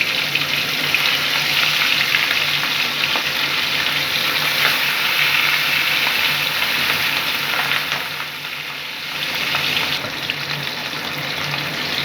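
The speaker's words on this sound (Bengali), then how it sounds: "আমি আবারও মাছগুলো দিয়ে দিচ্ছি।" Hilsa fish pieces frying in oil for Bengali mustard-poppy-seed ilish, a loud, dense, continuous sizzle and crackle close up, with no voices.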